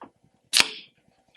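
A beer can cracks open in one sharp, close pop with a brief fizzy hiss trailing off, alone in a quiet room.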